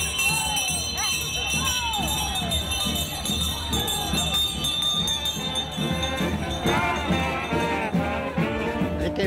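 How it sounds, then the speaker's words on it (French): Church bells ring on Easter morning in Cachoeira, Brazil, as people leave the church. The bells are partly buried under a lively crowd and overlapping voices. "Ils sortent tous de l'église quand les cloches sonnent."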